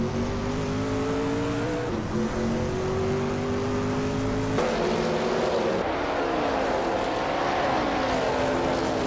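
A 1993 Peugeot 405 race car engine drones steadily in a racing video game, the revs holding then dropping and climbing again through gear changes, loud and continuous throughout.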